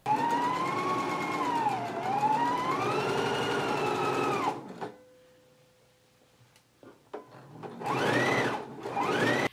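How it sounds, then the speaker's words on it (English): A sewing machine runs steadily as it stitches a seam on a McCall's 7922 dress, a loud whirring motor that stops partway, followed by a brief quiet pause and then another short burst of stitching. "I'm going to go to the machine and stitch this together"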